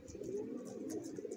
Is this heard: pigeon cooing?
yes